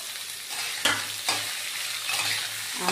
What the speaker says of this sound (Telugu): అదే ప్యాన్లో టమాటా ముక్కలు, ఆనపకాయ ముక్కలు వేస్తున్నానండి.